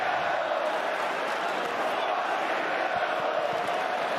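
Stadium crowd at the 2023 XFL North Division Championship playoff game, DC against Seattle, giving a steady, roaring wash of cheering and jeering that stays even across the whole stretch, sounding broad and slightly distant.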